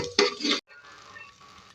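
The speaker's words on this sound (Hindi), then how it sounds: "अभी हम सिर्फ इसको चलाएंगे और अपने हल्की सी प्याज को ब्राउन करेंगे गरम मसालों के साथ।" Browning onions with whole spices and ginger-garlic paste are stirred in a pot: a quick, close scraping stir lasting about half a second, then a soft, faint sizzle continues.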